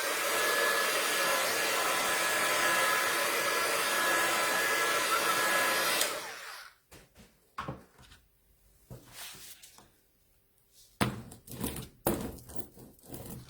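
A hair dryer blows steadily and loud for about six seconds to dry a thin layer on a handmade card, then cuts off, leaving scattered clicks, taps and handling noises of craft supplies nearby.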